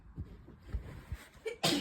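A single sharp, close sneeze bursts out at the very end, after a few soft breathy sounds.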